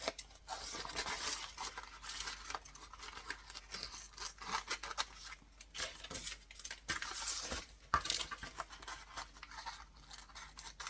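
Scissors snip at the corners of a junk journal with repeated short, crisp cuts and papery rustles, faint and close, irregularly spaced over the stretch.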